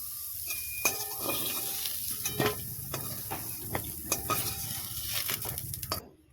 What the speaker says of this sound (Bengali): দিয়ে বেগুনটাকে একটু ভালো করে ভেজে নেব